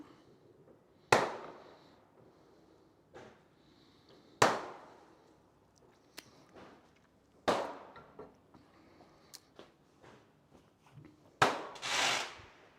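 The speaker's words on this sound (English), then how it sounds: "Fireworks going off literally over my head" Fireworks bang sharply overhead several times, loud cracks spaced a few seconds apart with echoing tails and smaller pops between them.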